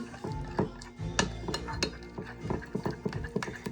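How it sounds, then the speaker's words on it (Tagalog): Buko salad with ube flavor being stirred in a bowl, spoon clinking and scraping against the sides in irregular taps, fairly quiet and close, with nobody speaking. "Haluin natin yan."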